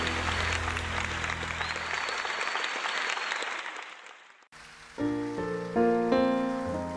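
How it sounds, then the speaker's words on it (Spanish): Audience applause at a live concert of a 20th-anniversary tour, a dense rain-like clapping from a large crowd that fades out before music with sustained tones takes over. "Aplausos a la Virgen María."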